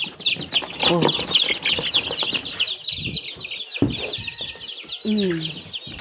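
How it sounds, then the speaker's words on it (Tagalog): Backyard chickens cluck and squawk near the listener, with bursts of wing flapping scattered among the busy, overlapping calls. "Transfer nato ang mga dagko ng mga manok."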